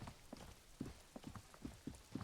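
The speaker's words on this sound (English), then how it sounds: "It's raining again." Steady rain falls in the Disco Elysium video game, a faint, soft hiss with a few light, periodic thumps mixed in over the short stretch.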